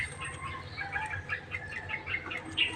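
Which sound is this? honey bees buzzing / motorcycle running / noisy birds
noisy birds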